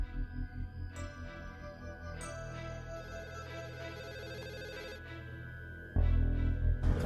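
A phone's electronic ringtone plays continuously as a steady tonal ring over background noise, with a louder burst of noise near the end.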